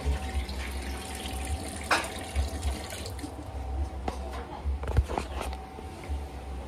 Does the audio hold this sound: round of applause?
no